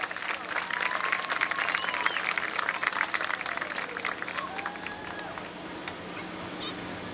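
Sustained applause from a homecoming pageant audience in Wauseon, dense clapping mixed with crowd murmur and occasional cheers, loud at first and gradually easing off over several seconds.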